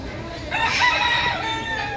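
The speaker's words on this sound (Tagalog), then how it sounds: "Ba't may manok dyan?" A rooster crows loudly nearby at Zoobic Safari in Subic, Zambales, a long drawn-out call starting about halfway through, with faint background noise before it.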